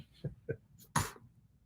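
After two short soft breaths, a single person lets out one sudden, forceful sneeze that bursts out loudly and then fades quickly.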